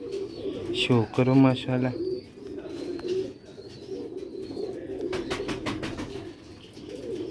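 Rooftop pigeons in Sialkot coo softly in the background while someone talks nearby, with brief bird calls and flutters through the middle and end.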